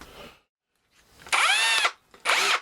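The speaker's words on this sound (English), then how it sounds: "Just have a tentative drill through that corner." A power drill whirs in two short bursts, its pitch bending as the bit bites into a timber batten in a shed, with quiet pauses between.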